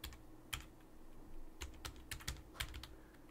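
A password is typed on a computer keyboard: a quiet, close series of sharp key clicks arrives in irregular bursts over a few seconds with no one talking.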